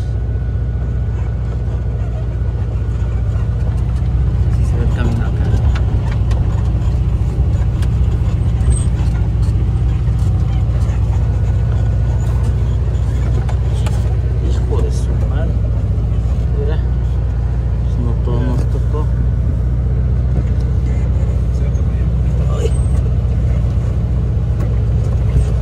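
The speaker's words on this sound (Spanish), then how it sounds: "Y el bochito a todo lo que da" A Volkswagen Beetle pushed to full throttle on a mountain dirt road in the Sierra Sur of Oaxaca gives a loud, constant low engine drone with rattles, while people talk over it inside.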